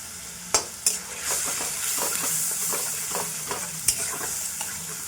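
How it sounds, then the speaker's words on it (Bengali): A spice paste of fried blended tomato and turmeric is stir-fried in a pan, giving a soft, continuous sizzle and hiss broken by several sharp utensil knocks and scrapes, with no speech. "মশলাটাকে ভালো করে কষবো"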